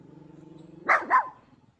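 A dog gives two quick close barks after a low steady hum, the pair sharp and loud, with no talk.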